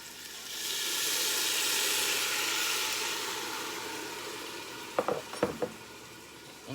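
Red cooking wine is poured into a sizzling spaghetti sauce, raising a loud, broad hiss that swells and then slowly fades, followed by a few sharp clanks of a utensil against the pan.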